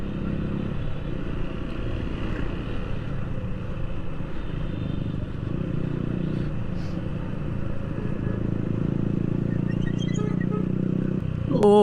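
A motorcycle rides along Cox's Bazar Marine Drive by the sea with a steady, continuous engine rumble and wind noise. Light clatter comes near the end.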